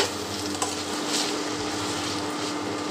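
Kartule (kantola) bhaji ingredients with grated coconut are stirred in a hot pan, a steady soft sizzle with faint scraping of the spoon, close and without voices.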